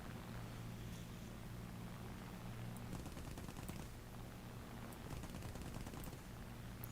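Rapid bursts of .30 caliber machine gun fire from a Mosquito aircraft in a flight combat video game, crackling over a steady low engine drone, with dense repeated firing around the middle and later stretches.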